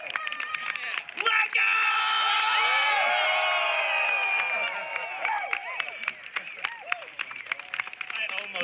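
A crowd in Tokyo cheers on request, whooping and bellowing in a loud swell that fades into scattered shouts and claps.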